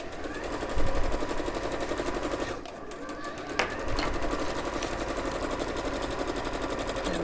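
A sewing machine stitches the inside yoke of an Austin dress within the seam allowance, a steady close mechanical whirr running nearly throughout with a short pause midway, while people talk over it.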